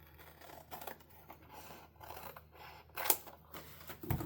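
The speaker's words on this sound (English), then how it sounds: "we're going to go ahead and cut this off here" Scissors cut through a paper file folder in a quiet room, making a series of soft, dry snips and crinkles spaced about half a second apart, close and faint, with no talking.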